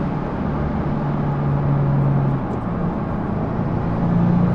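A 2022 Subaru WRX engine pulling hard toward the red line, a loud, sustained engine drone with road and cabin noise, its pitch rising steadily over a few seconds without any talking.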